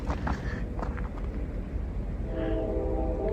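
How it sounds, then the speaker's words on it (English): A CSX freight train rolls past on lonely tracks, a steady close rumble of wheels and cars with faint squeals, heard alone without talk. "That's a CSX train. They move much faster than the Norfolk and Southern."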